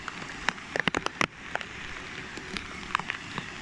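Heavy rain pours down during a thunderstorm in Stirling, a steady dense hiss with scattered sharp drips and splashes close by, no voices.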